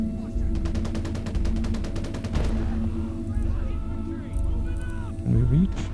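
Rapid MG42 machine gun bursts rattle continuously in a World War II battle in Gates of Hell, loud and close, with short pauses between long strings of shots and other battle noise underneath.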